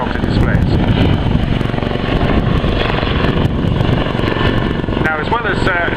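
A Westland Lynx helicopter at the Cosford air show gives a loud, continuous rotor and engine roar that holds steady throughout, with a commentator talking over it on a public address.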